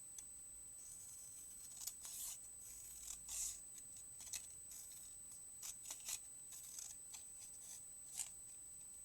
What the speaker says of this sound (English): And cut this up.